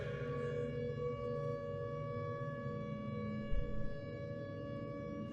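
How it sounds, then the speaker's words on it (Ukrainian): Air raid siren holding a steady, sustained wail that sounds somewhat distant and fills the whole stretch, with a brief low thump partway through and no talking. "Чому повітряна тривога йде справа, праворуч."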